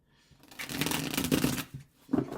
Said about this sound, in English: So I love the way the foil cards shuffle